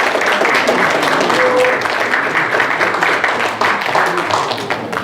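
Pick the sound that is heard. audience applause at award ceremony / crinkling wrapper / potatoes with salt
audience applause at award ceremony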